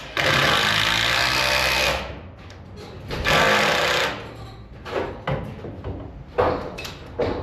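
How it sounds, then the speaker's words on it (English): A pneumatic nailer drives nails into a dense 4-ply LVL beam during subfloor framing, with loud, close bursts and air hiss, two long rattling runs followed by several shorter shots separated by pauses. "we're using the pneumatic on the LVLs because the density, this nailer drives in way better than the battery"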